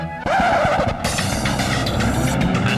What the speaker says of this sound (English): and 25 racing powerboat engines being fired up.